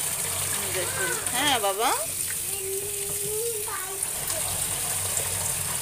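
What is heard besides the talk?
water running while washing sand off items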